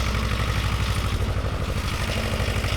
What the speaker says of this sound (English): we've got the back of an articulated trailer on a tractor going down the drive